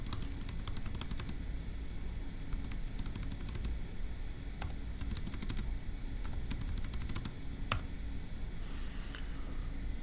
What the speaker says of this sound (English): So let's type it up.